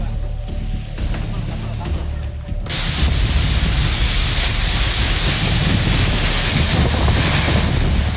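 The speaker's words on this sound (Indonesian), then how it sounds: "Kamera warga merekam momen saat puting beliung menerjang Desa Laju Kidul" Roaring tornado wind buffets a phone camera during a storm in a village in Tuban, East Java, a loud steady rush of wind noise that suddenly intensifies partway through.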